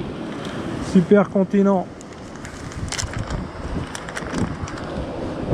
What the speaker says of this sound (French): il y a un petit vent frais